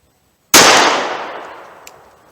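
A single .38 Special revolver shot fired single action with 170-grain lead semi-wadcutter ammunition at a tank about 45 yards away, one sharp loud crack followed by a long ringing decay outdoors, with no talking.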